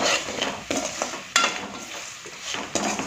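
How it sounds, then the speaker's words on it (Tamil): Tapioca frying in a pan with salt gives a soft sizzle broken by several sharp scrapes of a spatula stirring against the pan. "வதக்கிக்கலாம்."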